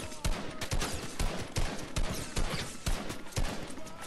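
Rapid gunfire in the game Fortnite, a steady string of close, loud shots fired in quick bursts with brief gaps across the whole stretch, standing alone without voices.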